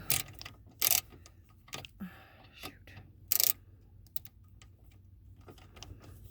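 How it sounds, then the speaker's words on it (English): A Phillips screwdriver removes screws from an ignition assembly on a Dodge, making sparse small metallic clicks and scrapes close up, with brief louder rustles between quiet gaps. "You can see I've got my Phillips here, so there's 4 screws on here."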